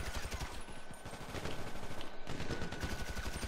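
Rapid automatic gunfire from the video game GTA V Online, a loud run of closely spaced shots that breaks off briefly and then resumes.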